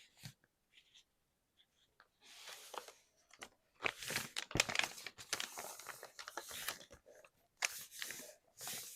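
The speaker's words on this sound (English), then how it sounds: "it's making a paper bag, and it's going to have this as one pocket, and then the other pocket will be behind it. And I'm going to fold this down about like that." Paper folded by hand into a paper bag pocket, with close crinkling, rustling and creasing in uneven bursts separated by quiet gaps.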